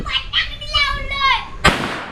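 Firecrackers go off during a village Ganesh festival in the Kolhapur area, one sharp loud bang near the end after a stretch of children's and people's excited voices close by.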